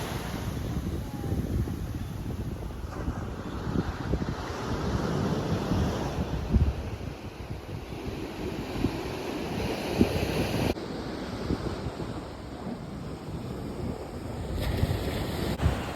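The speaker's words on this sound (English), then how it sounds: "Those waves are crashing now." Pacific Ocean waves crash at La Jolla Cove in San Diego, a continuous rushing surf with occasional heavier breaks, mixed with gusty wind buffeting the microphone and no speech.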